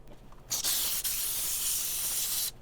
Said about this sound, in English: A couple of quick blasts from the steam gun should do the trick.